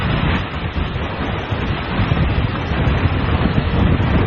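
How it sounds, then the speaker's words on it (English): Strong wind gust during Hurricane Ike striking Texas, a loud continuous roar of wind buffeting the microphone, steady and dense throughout with no voices. "Wow, that was a heck of a gust."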